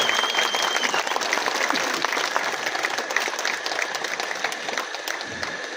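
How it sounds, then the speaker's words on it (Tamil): Loud audience applause at a stand-up comedy show during the 2025 Theni book festival, a steady, continuous burst of clapping that fills the whole stretch without any voices on top. "ஒரு பலத்த கைத்தட்டல்"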